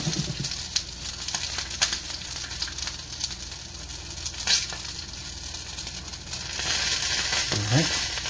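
Pot stickers frying in a pan as they turn golden and crispy on one side: a steady, close hiss of sizzling oil with scattered crackles and a brief scrape near the end.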